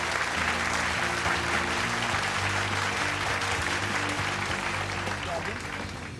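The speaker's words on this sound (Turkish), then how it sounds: "ilk hanımefendi konuğu sevgili Tuğba Özdanal'ı alkışlarla alıyoruz." Sustained audience applause greets a guest coming onto a stage, a dense steady wash of clapping from a crowd that fades slightly toward the end, with music playing underneath.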